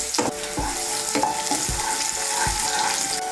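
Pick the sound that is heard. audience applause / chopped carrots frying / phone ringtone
chopped carrots frying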